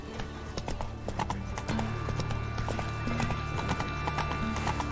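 Hoofbeats of a horse galloping in The Witcher 3 video game, a steady rapid clip-clop running throughout with an occasional brief whinny, close and continuous over faint background game sounds.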